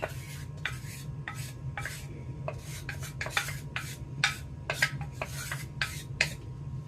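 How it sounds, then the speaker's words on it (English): A spoon scrapes and rasps around a bowl of flour and sugar for Russian tea cake dough, a quick run of about a dozen short strokes with a soft hum underneath. "Now, I am just going to stir this together until it's incorporated."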